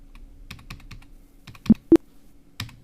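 Scattered keystrokes on a computer keyboard while entering items in Tally accounting software: light, irregular clicks with two sharper, louder taps near the middle, close and clear with no talking.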